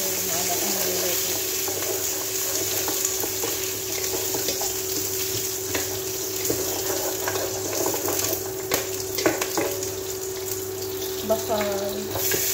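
Food frying in a pan in a home kitchen, a steady sizzle with scraping stir strokes and occasional clinks, while a constant hum runs underneath.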